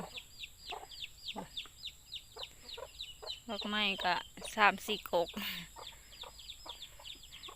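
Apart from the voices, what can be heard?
chickens and chicks clucking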